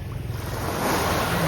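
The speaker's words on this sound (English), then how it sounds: "This is Mindelo's local beach, just on the other side from the marina." Surf washes in at Mindelo's local beach beside the marina on Sao Vicente, a brief steady rush of waves mixed with wind noise, no talk.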